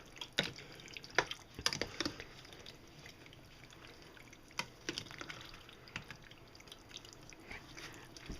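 Water drips into a large 22 cm saucepan of vegetarian pasta bake, with scattered close taps and small splashes coming irregularly over a low background.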